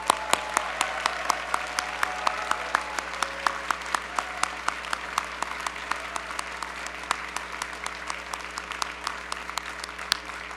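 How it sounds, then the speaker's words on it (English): A large audience at the Tulane University freshman convocation gives a long, thunderous round of steady clapping, with many sharp individual claps standing out through the roar. "give this class a thunderous round of applause"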